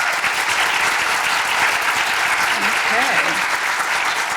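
A graduate school ceremony audience gives a sustained round of applause, dense, even clapping from a large hall that holds steady throughout, with a voice faintly heard beneath it.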